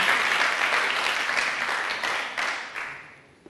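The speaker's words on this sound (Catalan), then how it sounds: "Un aplaudiment, no?" An audience at a Catalan spelling game show bursts into steady, dense applause that holds loud and even before tapering off toward the end.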